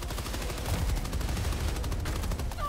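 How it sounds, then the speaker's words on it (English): A machine gun fires a steady, rapid burst at a Strider's leg joint in Helldivers 2, each shot loud and close in an unbroken stream lasting a few seconds. "machine gun versus the bottom of a Strider."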